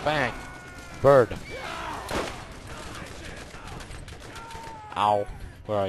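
Sniper rifle gunfire in the video game Borderlands, several sharp shots spread across the moment with sci-fi weapon sounds and effects around them, while someone talks throughout.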